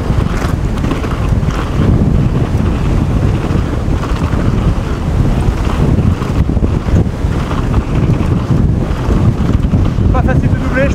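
Strong crosswind buffeting on a mountain bike downhill track, a loud continuous roar of wind noise against the microphone with rushing movement throughout.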